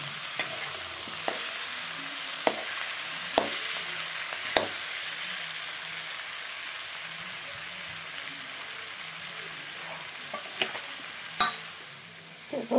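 Chicken and potatoes with spices fry in a pan while being stirred, a continuous close sizzle punctuated by sharp scraping clicks of the spoon every second or so, with no voices.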